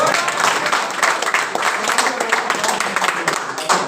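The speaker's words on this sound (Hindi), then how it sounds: "बाबा के लिए ताली बजाओ।" Audience clapping together, fairly close and loud, with rhythmic surges in a lively crowd and some voices mixed in.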